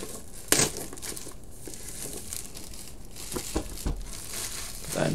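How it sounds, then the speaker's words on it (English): Plastic seal wrap is peeled off a Blu-ray box set with close crinkling and a sharp tearing snap at the start, followed by scattered crackles and rustles as the film is pulled away. "Cut the seal."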